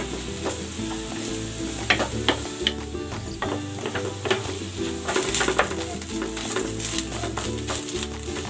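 Sardines hiss and sizzle steadily in a hot frying pan after being put back in, with scattered clicks and clatters of a utensil stirring against the pan, close and fairly loud with no voices.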